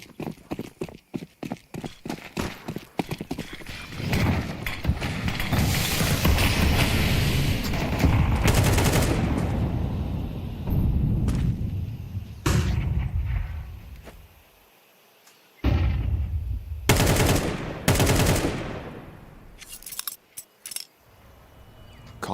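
Gunfire from a Counter-Strike match at the PGL Cluj-Napoca group stage: a quick run of sharp clicking shots opens, a sustained roar of action follows, then isolated loud cracks and short bursts near the end.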